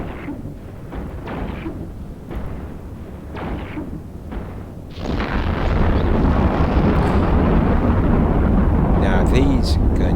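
Guns firing at sentry towers in EVE Online, a series of low booming shots in the first half, then a louder sustained rumbling roar, with talking at points.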